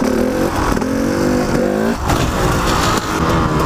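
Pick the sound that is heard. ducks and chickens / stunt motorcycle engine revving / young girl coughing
stunt motorcycle engine revving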